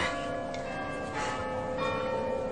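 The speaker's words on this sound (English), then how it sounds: "Amen to the bells" Church bells ringing in a radio drama, sustained overlapping tolls at a moderate distance with no voices over them.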